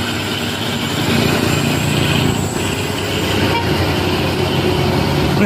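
Big trucks, including an Isuzu GLP, rolling in convoy on a road, with a loud continuous engine drone and road roar close by and a sustained horn tone sounding over it.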